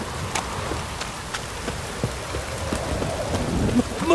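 Heavy rain drums on a surface in a steady hiss, scattered louder drops ticking through it and a low rumble swelling near the end.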